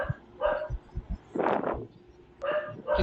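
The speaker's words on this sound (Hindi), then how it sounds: "किसी का माइक ऑन है, काइंडली जिसका पीछे कुत्ता भौंक रहा है" A dog barks in a few sharp bursts behind a participant's open microphone during an online history class, loud and close, with a teacher's voice talking between the barks.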